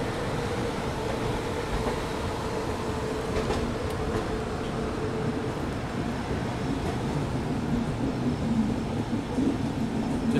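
The Rajasthan Humsafar Express pulls out of Ajmer Junction with a steady, loud rumble of wheels and carriages rolling along the rails, a continuous low roar that holds throughout and has no talking.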